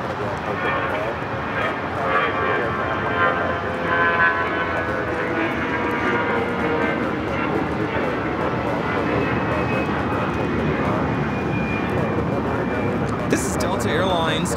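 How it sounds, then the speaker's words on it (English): Spirit Airlines flight 263 from New Orleans arriving on approach at Los Angeles International Airport: a steady, broadband jet roar holds throughout at moderate distance with wind noise and a faint voice underneath. "Here we have Spirit Airlines 263 coming in from New Orleans"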